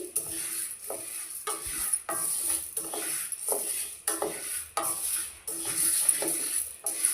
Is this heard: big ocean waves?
no